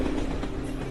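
Train running on rails, a brief continuous low rumble with a steady hum, close and moderately loud, with no voices.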